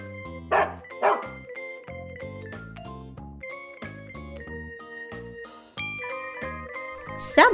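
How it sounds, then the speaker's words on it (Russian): Two short, sharp barks from a cartoon farm dog come in quick succession near the start, then a bright chiming children's tune plays on alone. "Собака."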